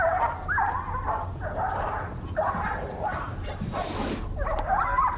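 A dog barks repeatedly in a village yard, several rough bark bursts spaced across the moment, moderately loud over steady low background noise.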